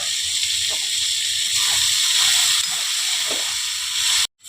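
Steam hissing loudly and continuously from an uncovered pan of mourola fish curry with potato and eggplant, a close broadband rush with a few soft knocks beneath, cutting off abruptly just before the end.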